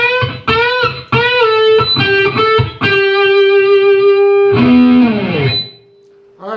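Distorted electric guitar plays a lick: quick clipped picked notes, then a long sustained note and a bend that fades out, loud and close with no talk.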